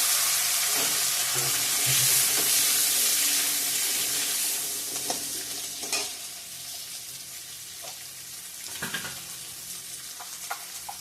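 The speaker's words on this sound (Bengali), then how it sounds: "ভাজা ভাজা হয়ে গেছে এখন আলুটা দিয়ে দেবো" Potato pieces fry in a pan with five-spice seeds and ginger, sizzling strongly at first and then easing off. A spoon scrapes and stirs them in repeated clicks, with no one speaking.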